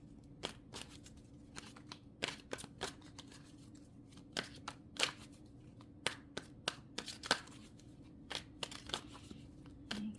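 Tarot cards being shuffled by hand: repeated short riffles and slaps at irregular intervals, crisp and close over a quiet background.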